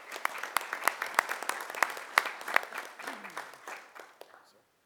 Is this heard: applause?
yes